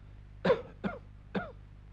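Three short coughs in a row from a man being examined for a cold, close and fairly soft, each a brief throaty burst with a pause between.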